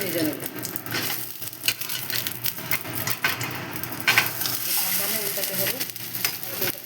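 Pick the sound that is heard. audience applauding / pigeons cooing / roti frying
roti frying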